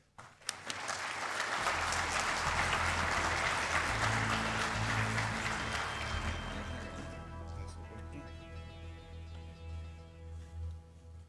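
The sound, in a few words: audience applause for speaker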